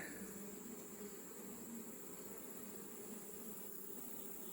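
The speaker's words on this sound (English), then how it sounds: "I just shook these bees off with the intention of taking this frame" A steady, close buzz of many honey bees on a frame from a weak hive, continuous and even with no voices.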